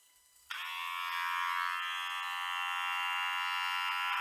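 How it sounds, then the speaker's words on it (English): An electric shaver switches on at maximum setting and buzzes loudly and steadily for several seconds, a close, bright whine shaving away with no speech over it. "Now I'm going to set it to maximum to begin with, and I'm just going to shave away."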